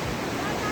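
Mountain river rushing below a swaying suspension footbridge on the Panch Pokhari trek in Nepal, a steady close broadband roar of fast water with wind noise, unbroken for the whole moment.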